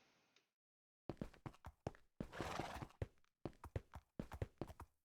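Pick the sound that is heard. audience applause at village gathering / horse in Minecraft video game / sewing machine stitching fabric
horse in Minecraft video game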